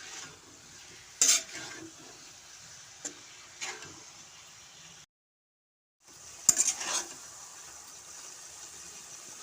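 Green banana pieces and green chilies being stirred with spices in a pan, giving soft, intermittent scraping and sizzling with a few sharper clinks. The sound drops out briefly before the stirring resumes.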